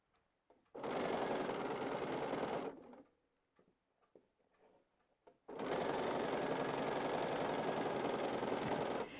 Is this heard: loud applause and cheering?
no